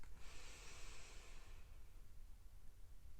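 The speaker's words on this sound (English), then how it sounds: "breathing in through your nose" A slow, steady in-breath through the nose during a guided breathing exercise, a soft airy hiss that swells for about a second and a half and then fades, heard close and alone without talk.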